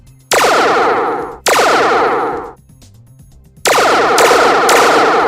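Electronic laser blaster bursts from a Transformers toy fire loudly in three long rapid-pulse volleys, each dying away with a metallic echo, separated by short pauses.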